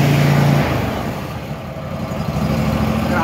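A Bad Boy MZ Magnum zero-turn mower engine runs close and loud with a steady low drone, its pitch easing down after the first half second and then holding at a lower running speed.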